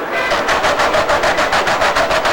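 Sanding a molded canard's composite skin by hand produces a steady, rhythmic rasping scrape, stroke after stroke in quick succession, close and fairly loud with background noise underneath.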